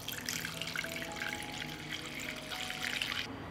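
Water poured from a tap into a cooking pot holding jars set on a cloth, ready for pasteurizing, a soft, steady splashing stream running throughout, faint and close, with no talking.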